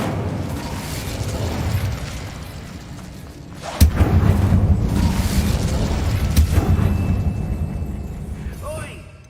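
Incendio fire spell blast in the Hogwarts Legacy video game, a sudden loud whooshing burst followed by a sustained roaring rumble that slowly fades, with a voice and game music underneath.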